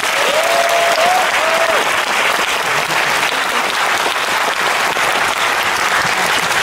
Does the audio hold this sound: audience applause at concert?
yes